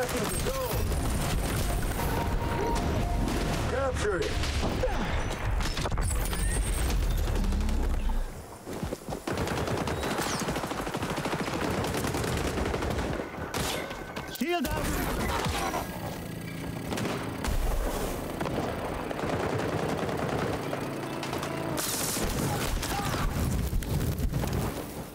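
A video-game gun fired from the hip lets loose rapid automatic bursts, loud and close, with clattering rounds, thuds and brief pauses between strings of fire, while a voice talks over parts of it.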